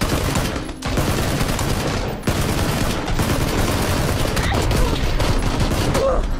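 Dense, rapid gunfire from a gun in a first-person video game, loud and close, with bursts broken by short pauses.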